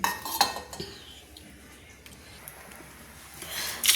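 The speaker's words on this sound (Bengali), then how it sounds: "এবার আমি একটা ঢাকা দিয়ে দিলাম।" A lid is set on a cooking pot while making a Bengali taro and shrimp dish, heard as a few metallic clinks and clatters at the start and end with quieter kitchen rustle between.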